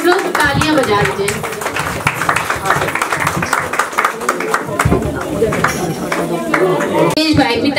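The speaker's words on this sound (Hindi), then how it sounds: "सब लोग तालियां बजा दीजिए।" An audience at a family Christmas and New Year gathering claps steadily throughout, a dense crowd applause under someone speaking over a microphone, loud and sustained.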